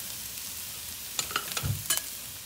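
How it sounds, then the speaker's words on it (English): Minced garlic goes into a pan of frying peppers and carrots, giving a faint sizzle with a few soft stirring clacks and scrapes. "And now I want to add my garlic."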